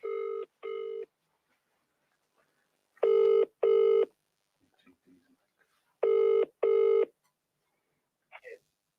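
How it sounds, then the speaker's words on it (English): Phone call being placed: pairs of dialing tones sound three times, evenly spaced with pauses between, clear and near, with a faint brief voice near the end. "Right, I'm ringing Nick"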